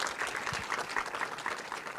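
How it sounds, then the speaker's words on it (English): A theater audience at a film Q&A applauds the actors, a dense steady clatter of many hands clapping throughout the short stretch. "let's have a round of applause, please, for those amazing actors: Elizabeth Olsen, Carrie Coon, Natasha Lyonn"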